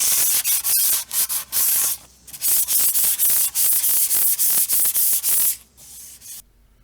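Light hand sanding of primed wooden drawers, with close, brisk strokes of sandpaper coming in uneven bursts and brief pauses, then stopping near the end. No one speaks.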